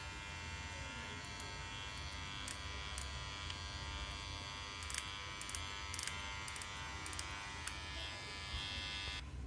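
A Mi Beard Trimmer 2020 runs with a continuous, even electric buzz full of high harmonic whine, close and steady, with a few small clicks along the way.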